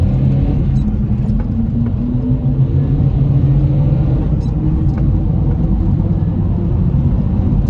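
Steady, loud low-pitched engine drone of a Dacia Duster revving high in first gear on a road, a continuous rumble with no breaks, heard from inside the car.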